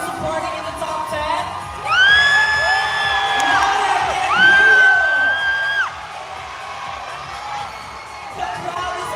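A pageant audience at the Miss Asia Pacific International 2024 coronation night cheers for the top 10 contestants, with loud sustained whoops and shrieks rising in two big waves over a constant crowd roar.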